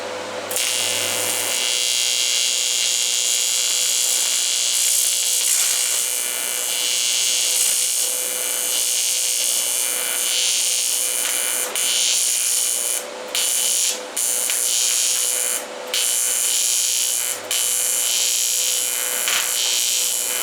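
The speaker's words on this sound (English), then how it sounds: "First time welding aluminum in my life." A PrimeWeld TIG225X runs AC TIG on 1/8 inch aluminum, a loud steady electric buzz with a constant tonal hum and crackle, briefly interrupted a few times before resuming.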